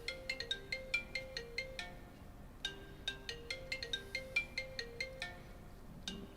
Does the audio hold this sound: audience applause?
no